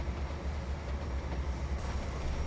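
A heavy freight train of mixed cars, including boxcars, rumbles steadily past at close range with no break, a deep continuous roar of wheels and wagons.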